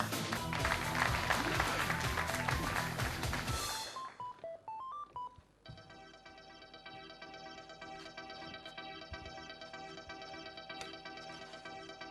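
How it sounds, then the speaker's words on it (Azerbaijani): A studio audience at a televised competition in Azerbaijan bursts into loud applause that fades after a few seconds, then gives way to electronic chimes and music. "Alqışlarınız."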